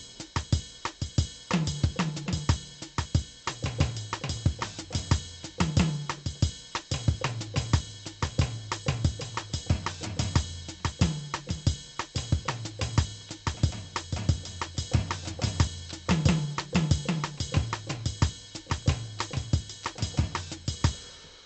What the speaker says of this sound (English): You would quickly move and fill in some toms just to make it interesting.